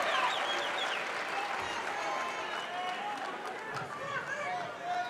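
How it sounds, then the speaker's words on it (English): Crowd at a college wrestling match roaring and cheering steadily throughout, a dense loud wash of voices and clapping with some shouts rising above it, under commentary. "Crowd is into it."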